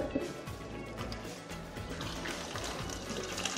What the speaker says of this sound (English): put some ice cold water in here and let it soak for about 5 minutes